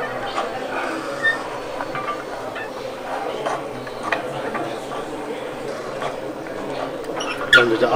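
A 1:32 scale Klv 12 model rail vehicle with a lifting-turning mechanism whirs and clicks as it raises and rotates, with a steady mechanical hum beneath ongoing talk at a model railway show.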